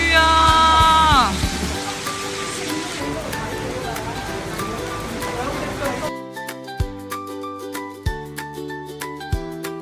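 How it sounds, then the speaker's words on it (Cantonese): Heavy rain pours at the Hengqin border crossing, a dense steady wash that fills the first several seconds before thinning into scattered drips and patters with some tonal sounds. "好大雨啊！"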